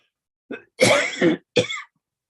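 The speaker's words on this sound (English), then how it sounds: "excuse me for my frequent coughing" Three close, harsh coughs in a quick cluster, the middle one longer and doubled, in an otherwise quiet room.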